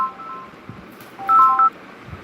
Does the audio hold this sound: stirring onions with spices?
no